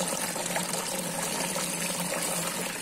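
Water streams from a perforated outlet pipe into a tank at an intensive ornamental fish farm, a steady close splashing gush that fills the whole clip without pause or voices.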